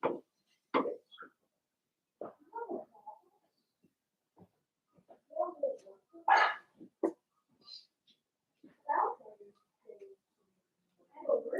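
Puppies and a dog give short, scattered barks and yips with quiet gaps between them, close by and fairly faint, spread across the whole stretch of sound.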